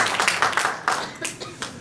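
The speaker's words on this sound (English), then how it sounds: "Clap till your hands fall off." An audience at a recovery awards symposium claps in a short, uneven burst, individual hand claps standing out loud and close, fading slightly toward the end.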